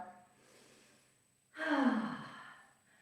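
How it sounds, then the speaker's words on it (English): A single big, breathy inhale during a barre fusion warm-up, soft at first and then swelling sharply and close before tapering off, with no talking. "big inhale"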